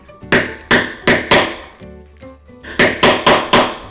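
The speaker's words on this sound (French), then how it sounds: "Je vais percer les trous à l'aide d'un emporte-pièce et d'un maillet sur une plaque d'air-talon de cuir." Steel hole punch struck with a mallet to pierce holes in a leather heel plate for a bag handle: sharp, loud, close thwacks in two groups of four, each with a short ringing decay.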